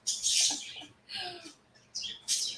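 Pet birds chirp close by in bright, high bursts, a couple of quick tweets, a pause, then two more sharp calls.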